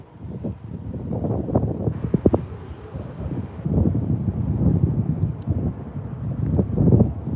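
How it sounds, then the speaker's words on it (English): Gusts of wind buffet the microphone with low, uneven rumbles and thumps that swell and fade throughout. "Keep in mind it is windy."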